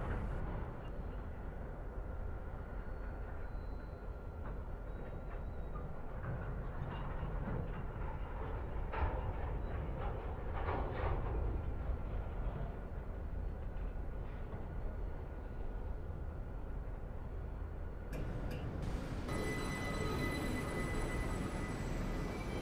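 A train on the London Bridge to London Victoria route passing close by, a loud, steady rumble with rhythmic wheel clatter across the rails, building through the middle and giving way to sharper mechanical whine near the end.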